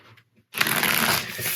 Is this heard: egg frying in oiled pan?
no